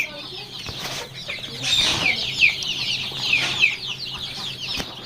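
A crowd of young layer chicken chicks peeps constantly in high, rapid chirps, close and overlapping, with a few louder calls rising above the chatter.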